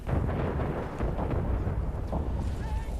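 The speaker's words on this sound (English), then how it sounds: "Seeing these artillery guns fire." Artillery guns fire in the Men of War: Assault Squad game during a beach battle, producing a dense, low, rumbling barrage of booms that rolls continuously at close range and stays loud throughout.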